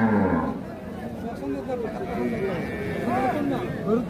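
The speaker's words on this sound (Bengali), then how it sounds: "বাচ্চা হচ্ছে এইটা আর গাভী হচ্ছে এইটা।" At a cattle market, a cow with her calf gives low moos amid constant nearby chatter from people talking.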